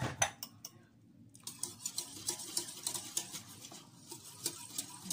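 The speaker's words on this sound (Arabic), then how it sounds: "نخلط الحليب السخون مع البارد" Spoon clinking and scraping inside a pot while warm and cold milk are stirred together, a quiet close run of rhythmic metallic taps after a short pause.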